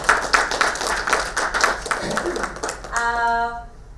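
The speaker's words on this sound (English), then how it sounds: "A round of applause for Nani." A burst of applause at a policy seminar, many hands clapping in a dense patter from a room audience, fading as a voice and a held tone take over near the end.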